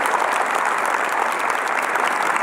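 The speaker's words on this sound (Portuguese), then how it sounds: "Pode aplaudir, já vai aplaudindo." An audience at a church camp applauds steadily, a dense wash of many hands clapping at an even level throughout, with no speech on top.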